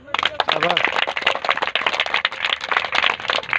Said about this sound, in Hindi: एकदम जोरदार तालियां बजा दो